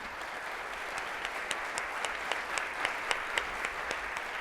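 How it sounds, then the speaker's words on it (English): Sustained audience applause filling a lecture hall, a dense steady wash of clapping with a few sharper individual claps standing out. "Give us a big round of applause for that."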